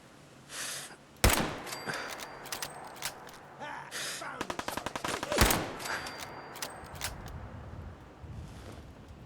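Enemy gunfire in the Fallout 4 game: sharp, loud shots in irregular bursts, including a rapid volley of cracks mid-stretch and a few heavy single blasts, set against a low ambient rumble.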